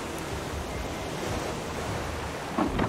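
Rough ocean waves in the survival video game Raft, a steady broad wash of surf and wind noise, loud and continuous, with a slightly stronger surge near the end.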